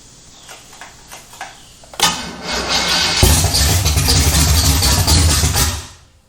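A Chevy 307 V8 cranks over on a start attempt: a few faint ticks, then loud continuous cranking and rough engine noise close by for several seconds before cutting off.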